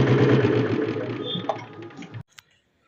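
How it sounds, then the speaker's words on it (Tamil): A restored vintage Royal Enfield Bullet engine idling at slow speed, a close, loud, rhythmic thumping beat that runs steadily for about two seconds and then cuts off abruptly into near silence, with a faint click after. "so slow speed engine beat சவுண்ட்லாம் கேளுங்க"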